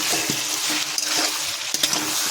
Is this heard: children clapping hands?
no